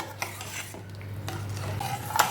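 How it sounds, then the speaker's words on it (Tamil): A utensil stirs cooked dal into a pot of drumstick leaf sambar, giving soft scraping and clinking against the pot, close and moderate, with a faint hum behind. "வேக வச்ச பருப்பை சேர்த்து நல்லா கிளறி விடுங்க."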